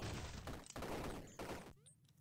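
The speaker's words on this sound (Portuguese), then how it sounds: "Tomou tiro de Magnum, tá?" Several loud, sharp Magnum gunshots in the video game Superfighters ring out in quick succession, each with a booming punch, followed by a brief fading tail.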